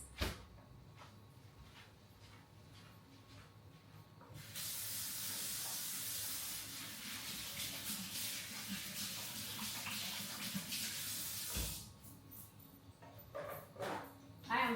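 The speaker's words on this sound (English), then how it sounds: "Let me wash my hands." Hands are washed under a running kitchen tap, a steady hissing spray of water that lasts several seconds before cutting off. Faint clatter and quiet room sounds come before and after.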